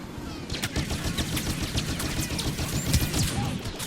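Rapid bursts of blaster and gunfire crackle through a Star Wars Battlefront match, dense overlapping shots with sharp impacts filling the whole moment at moderate loudness.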